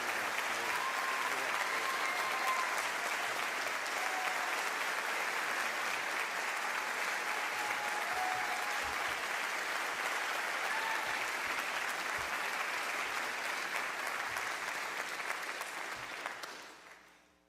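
Sustained audience applause at a college honors convocation for the outstanding senior award winner, a dense, even wash of clapping from a large crowd that holds steady for the whole stretch before fading out at the end.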